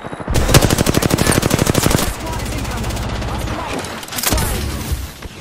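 Loud, close bursts of rapid automatic gunfire in the video game Apex Legends, a fast even stream of shots followed by a lower rumbling stretch and another short volley.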